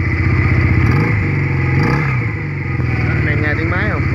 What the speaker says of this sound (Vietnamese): Em nghe tiếng máy không, nổ rất là lực luôn.